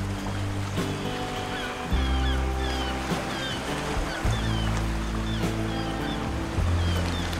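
Continuous wash of sea waves on the shore at Port Alexander III, with low rumbling surges, heard over a steady background drone of tones and faint music.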